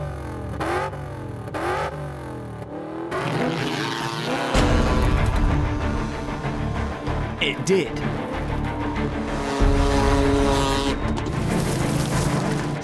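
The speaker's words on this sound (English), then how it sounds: "I still didn't quite believe that a jet-powered kayak would work." Jet-powered kayak starting off on volcanic ash, with a rising engine and jet roar that swells and holds loud and close, under a man's speech.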